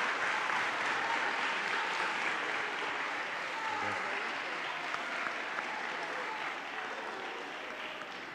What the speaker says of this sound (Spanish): Vamos a hacer un aplauso para el último colegio y para el resto.